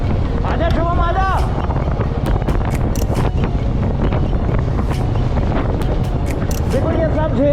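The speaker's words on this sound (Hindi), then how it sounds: "तेज हवा चल रही है यार" Strong wind buffets a rider on a Royal Enfield Classic 350 cruiser touring from Goa to Pune, a constant loud roaring rush with brief higher tones and clatter mixed in.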